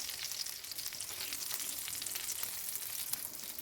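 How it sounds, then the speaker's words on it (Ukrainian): Liver cutlets fry in a hot pan with a continuous crackling sizzle, soft popping spatters over a steady hiss, moderately quiet and close. "І так смажимо всі котлетки"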